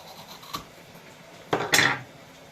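A knife cuts through food on a board, with a light tap, then a firmer scraping slice and a knock near the end, close and fairly quiet.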